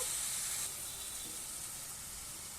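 Onions sautéing in a pan for a lentil dumpling curry, giving a steady, close hiss of frying that eases slightly softer partway through, with no voices.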